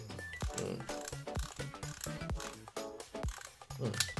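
Yashica Electro 35 rangefinder camera shutter firing repeatedly, a series of sharp mechanical clicks and ratcheting winds at irregular intervals, close and clear with no voices.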